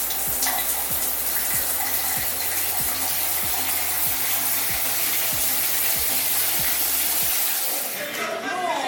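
A high-tech shower runs with a steady, loud hiss of spraying water close by that barely changes, then eases off near the end.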